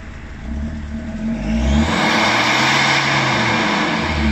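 A SsangYong car engine roars up in pitch and loudness, then holds at a steady, loud, rumbling drone for several seconds.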